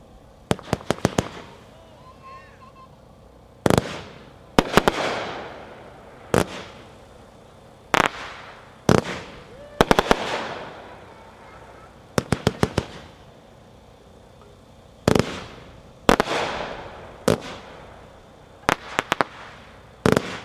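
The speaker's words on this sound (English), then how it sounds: "Number 5 is Hurritrain by Gunslinger, pack 4, 136 shots." Gunslinger's Hurritrain, a 136-shot firework cake, fires in bursts of rapid crackling pops, each volley a sharp loud cluster followed by short gaps, repeating over about twenty seconds outdoors.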